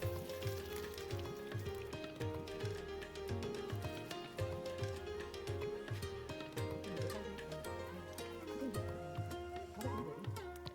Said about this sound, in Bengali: তেলটি গরম হয়ে গেলে ব্রেডগুলোকে বেসনে চুবিয়ে দিয়ে দেব তেলের মধ্যে